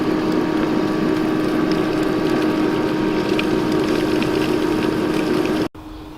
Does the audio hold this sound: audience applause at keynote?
no